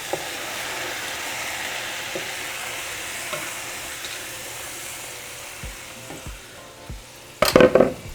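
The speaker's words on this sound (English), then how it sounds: "so now we're going to add our tomato broth." Shells and chicken fry with a soft, steady sizzle and occasional stirring taps, then a sudden loud splashing hiss as tomato broth pours into the hot pan near the end.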